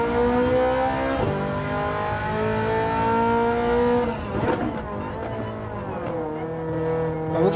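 A Ferrari Testarossa engine in Gran Turismo 7 at the Nürburgring revs loudly and steadily, its pitch climbing through gear changes with a brief rough burst midway, continuous and close.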